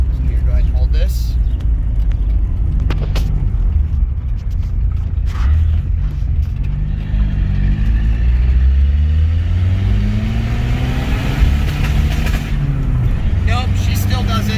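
A Mitsubishi Starion with a suspected fuel pump problem drives on a road, its engine rumbling loudly and revving up and down close by while someone talks over it.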